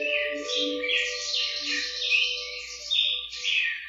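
Small birds chirp and tweet in a bright, busy chorus, with overlapping calls at close range over a faint low hum and a soft steady tone, used as an audiobook sound effect.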